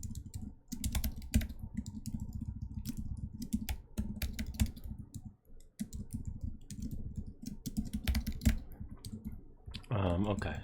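Rapid, continuous clatter of keys on a computer keyboard while someone codes during a programming contest, close and busy, with a brief pause midway and a voice talking near the end.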